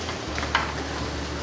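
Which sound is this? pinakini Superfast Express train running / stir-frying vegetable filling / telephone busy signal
stir-frying vegetable filling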